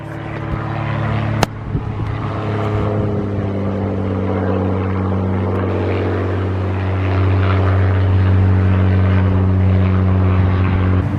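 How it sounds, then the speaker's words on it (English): A propeller plane drones loudly overhead, its steady engine hum holding throughout with a slight swell toward the end. "it's that stupid plane again"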